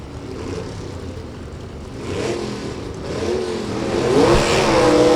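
Drag race cars, a 4-speed Chevy 2 and a 92 Dodge Daytona, idling and revving at the strip, engine rumble swelling louder over several seconds amid outdoor crowd noise.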